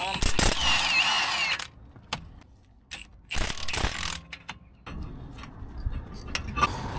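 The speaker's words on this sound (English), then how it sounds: "I'm just going to take the caliper carrier bolts out once I've got the right size." A socket ratchet turning the caliper carrier bolts on a car brake, with loud bursts of rapid clicking broken by pauses and brief clanks of metal nearby.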